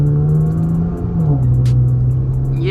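A Chevrolet Camaro engine revs loudly and close up while downshifting with paddle shifters, a steady drone whose pitch slides down and settles before lifting again near the end.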